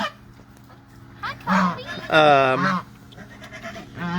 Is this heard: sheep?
yes